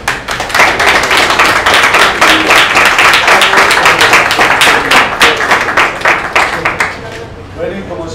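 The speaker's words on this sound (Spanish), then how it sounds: "Un aplauso para" A crowd claps steadily and loudly for several seconds, the applause thinning out toward the end.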